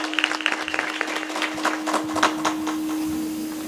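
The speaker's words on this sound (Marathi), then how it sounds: "आपण टाळी वाजवलीच पाहिजे." An audience claps together at a Marathi kirtan during a week-long devotional naam saptah gathering, a dense, steady patter of applause with a faint sustained tone running underneath.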